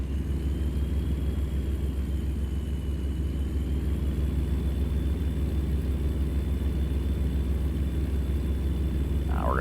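A truck engine in American Truck Simulator drones with a steady, loud low rumble and faint rising whine, holding constant throughout with no talk.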